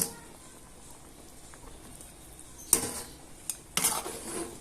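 A spoon stirs a pot after a stock cube is dropped in, giving a few sharp clinks and scrapes against the pot amid quiet kitchen background, with no talking.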